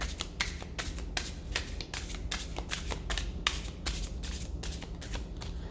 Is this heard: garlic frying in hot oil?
no